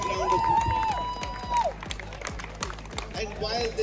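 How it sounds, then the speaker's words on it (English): Audience at an annual reunion event applauding, scattered claps mixed with shouts and voices, plus sharp taps and thumps, the crowd sounding close and lively. "A very, very big round of applause."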